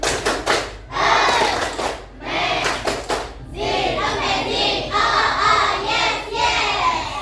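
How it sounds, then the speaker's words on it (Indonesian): A school class performs the "tepuk amazing" clapping cheer, with a rapid burst of sharp claps followed by loud group shouting and chanting from many young voices, claps recurring in rhythm beneath the crowd. "Kita kasih semangat, kita kasih tepuk amazing dong."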